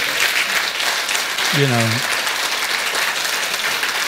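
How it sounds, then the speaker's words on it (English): Conference audience applauding in a steady crowd wash, with a brief spoken phrase rising over the clapping midway. "How about a big round of applause for the Voices of Hope, ladies?"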